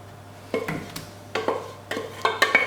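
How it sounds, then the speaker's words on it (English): Chunks of cooked apple tipped from a pan into a baking tray, giving several close clattering knocks and scrapes of metal against metal with soft wet thuds between them. "So I'm just going to tip all of these are tipped into the bottom of the pan, or tray"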